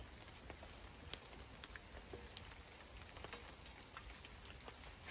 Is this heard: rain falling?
yes